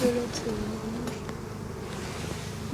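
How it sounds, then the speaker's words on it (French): Honeybees hum and buzz near a hive as they forage and bring in dandelion, wild cherry and rapeseed pollen in spring, a close, steady drone with an individual bee passing at times. "les abeilles, elles sont à fond sur le pollen et surtout sur le pollen de pissenlit"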